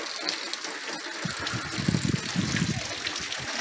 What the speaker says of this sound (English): there is water coming down onto the ground